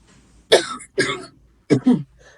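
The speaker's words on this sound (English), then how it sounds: "Now the coughing is coming." Three harsh coughs, close and loud, with short pauses between them, the last a quick double cough.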